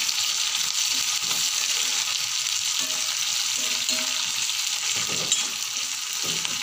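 Onions and green chilli fry in a hot pan with a steady, close sizzle and crackle that holds evenly throughout, with faint stirring beneath.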